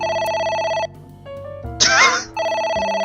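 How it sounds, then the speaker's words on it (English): A telephone rings in the video game AI: The Somnium Files, a bright electronic trill repeated twice in loud bursts, with a short break between them filled by quieter game music and a brief swooshing effect. "A phone. Should I pick it up?"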